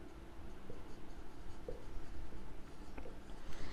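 Writing on a board during a geometry lesson: soft, continuous scratching and tapping strokes, close and fairly faint, with no talk.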